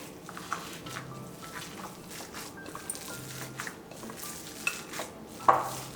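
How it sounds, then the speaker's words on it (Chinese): Hamburger meat mixture with milk, nutmeg and salt being stirred in a bowl: soft squishing with intermittent scrapes and light clinks of a utensil against the dish, close and fairly quiet. "然后充充分的搅拌均匀"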